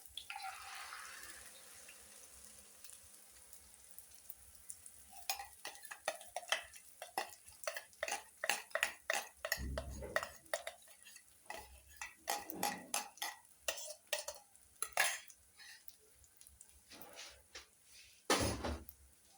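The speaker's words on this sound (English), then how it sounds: "So now we are frying our eggs." An egg and cabbage mixture sizzles and crackles over onions in a hot pan, with irregular popping bursts and occasional scraping of a utensil, no talking.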